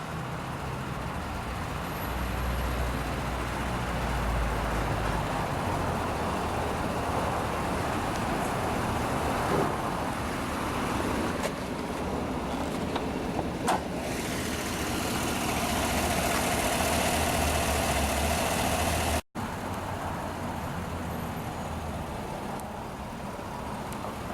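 A 2015 Chevrolet Tahoe LTZ with a 5.3-liter Ecotec3 naturally aspirated V8 idles, a steady low rumble that carries on evenly with faint background noise, and no one speaks.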